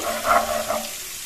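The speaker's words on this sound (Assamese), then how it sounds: "নহৰুৰ ভাজা ভাজা গোন্ধ এটা নাহালৈকে এইখিনি ধুনীয়াকৈ ভাজি থাকিম" Crushed garlic fries in a pan with soft, steady sizzling and a couple of brief stirring swells, close and moderately quiet, no talk.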